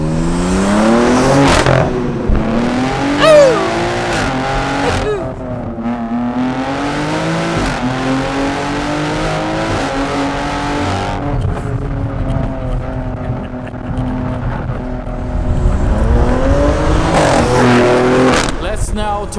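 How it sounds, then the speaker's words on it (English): A tuned BMW X3 M Competition's S58 engine at Stage 2 revs up and down repeatedly with rising and falling pitch, crackling burbles and pops between pulls, while a person talks over it. "More burbles and a few pops in between gear changes."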